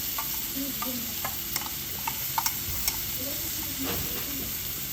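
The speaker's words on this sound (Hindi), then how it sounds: "घुमा दे इसको, चम्मच से घुमा दे एक बार" A spoon stirs chutney over a sizzling, steady frying hiss, with a few sharp clinks and scrapes against the pan standing out close by.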